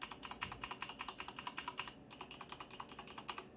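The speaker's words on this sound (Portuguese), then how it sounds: "Até o W que eu troquei aqui, ó, nesse teclado aqui faz bastante barulho" Rapid, clicky typing on a GK61 mechanical keyboard with noisy, low-quality keycaps, a close, steady patter of keystrokes with a brief pause midway.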